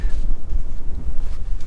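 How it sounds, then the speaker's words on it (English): Wind sweeps over the Death Valley sand dunes as a loud, steady low rumble buffeting the microphone, with no talk. "And now the wind is picking up,"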